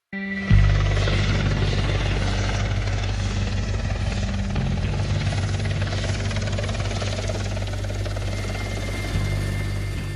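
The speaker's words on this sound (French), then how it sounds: "Dans cet hélicoptère," Helicopter carrying French special forces in the Sahel, a loud, continuous rotor thrum and engine whine that holds steady up close for the whole stretch without letup.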